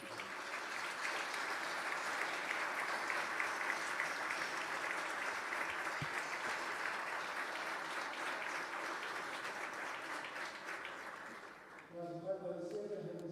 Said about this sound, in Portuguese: quero pedir a todos uma grande salva de palmas para celebrar a volta do Brasil à CELAC